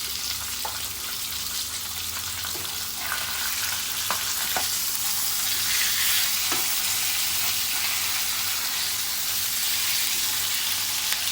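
Fish (khadichi macchi, thapa) coated in masala shallow-frying in oil in a pan, a steady broadband sizzle throughout with a few small pops and light clinks, close and alone with no talk.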